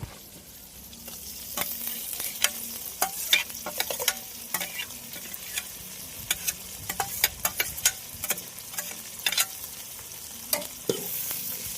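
Ginger paste frying with softened tomato and onion in a pan over a wood-fired stove, a steady sizzle broken by frequent sharp scrapes and clicks of stirring, close and continuous throughout.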